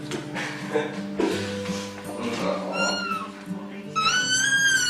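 A cat meows a few times, drawn-out and fairly close, while people talk over it.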